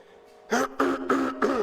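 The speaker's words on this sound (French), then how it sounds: "Je tousse" A short burst of four or five rough throat-clearing coughs in quick succession, close and fairly loud, with no talking.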